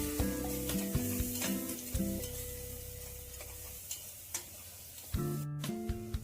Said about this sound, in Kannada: ನಂತರ ಒಂದು ಟೀ ಸ್ಪೂನಷ್ಟು ಅಚ್ಚ ಪುಡಿ ಹಾಕ್ಕೊಳ್ಳಿ ಇದು ಅಷ್ಟೇ ನೀಟಾಗಿ ಫ್ರೈ ಮಾಡ್ಕೊಳ್ಳಿ